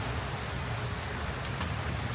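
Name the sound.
rain falling at an outdoor wedding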